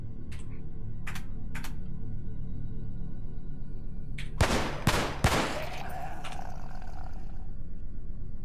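Gunfire in Cataclysm DDA against a zombie brute: a few sharp clicks, then two or three loud close bangs in quick succession, followed by a ringing tail over a low steady hum.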